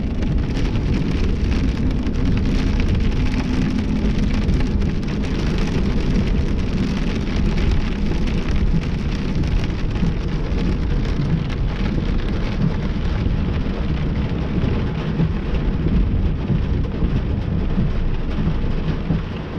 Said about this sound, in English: Alright, I can hear thunder.